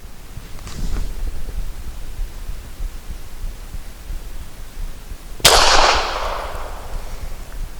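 A single suppressed shot from a Cosaint Arms COS11 firing PPU 158 grain subsonic ammunition, a sharp close crack with a short decaying tail over steady low background hum, no talking.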